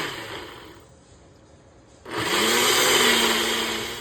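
A mixer grinder whirs on after a quiet pause, grinding a nut chutney into a steady, loud, high-pitched roar that fills the second half.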